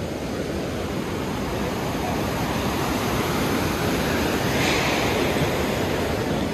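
River water rushes steadily at Manikaran beside a gurudwara, a loud, constant roaring wash that fills the whole clip with no pauses and no talk.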